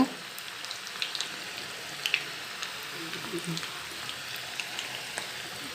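Ginger pakoda frying in hot oil, a steady soft sizzle with scattered pops and crackles running throughout at an even level.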